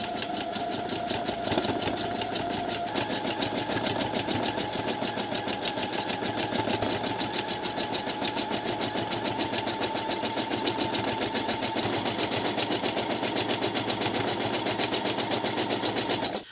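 A sewing machine stitches free-motion pebbling on a quilt, its needle chattering in a fast, even rhythm, close and continuous throughout with no talking.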